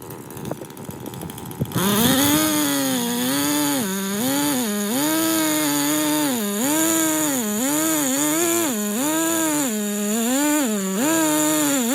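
A chainsaw with a freshly filled tank and tightened chain, used to cut a felling wedge in a tree, starts up close and loud after a brief quiet moment, then revs up and down in a steady repeating rhythm, with no talking.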